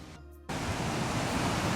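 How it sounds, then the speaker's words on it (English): A waterfall plunges into the ocean beside crashing surf, a loud, steady broadband roar that cuts in abruptly after a brief quieter moment and holds constant. "that's where the waterfall falls into the ocean"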